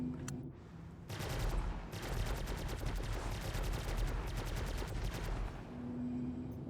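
Rapid automatic gunfire in Star Citizen, a dense burst of fast repeating shots at moderate distance lasting several seconds with a brief pause, then trailing off into a low hum.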